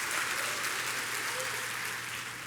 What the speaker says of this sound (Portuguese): Pode dar salva de palmas.